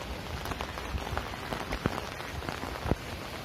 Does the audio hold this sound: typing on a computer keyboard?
no